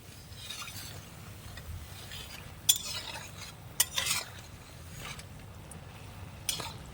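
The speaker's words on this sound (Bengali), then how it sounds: "এইভাবে করে গরম তেল ওপর দিকে ছিটকাতে থাকবো তাহলে চপগুলো না সুন্দর করে ফুলে উঠবে" Aloo chop potato fritters fry in hot oil as it is splashed over them, giving a steady soft sizzle with a few sharp metallic clinks of a ladle against the pan.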